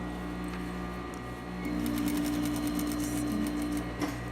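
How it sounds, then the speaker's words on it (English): A sewing machine stitches a skirt waistband in the ditch with a steady mechanical whir, humming close and continuous, then running faster and louder partway through before easing off. "So the stitch goes right on the ditch"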